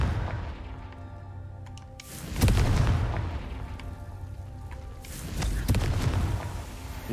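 Confringo fire-spell explosions in Hogwarts Legacy: two deep, rumbling booms a few seconds apart, each with a sharp crackling onset and a lingering low roar, set against steady game ambience.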